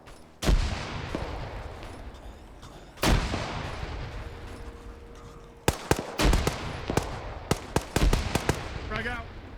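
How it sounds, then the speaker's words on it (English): Video game combat with a dynamite blast and gunfire: two heavy booms early, then a close, loud cluster of sharp gunshots, with players talking over the action. "Dynamite behind you."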